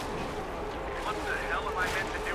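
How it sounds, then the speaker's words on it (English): Artillery barrage in the Company of Heroes 2 real-time strategy game, dense overlapping booms and rumbling distant blasts filling the scene continuously, with a voice talking over the battle. "And this artillery is so fun to watch."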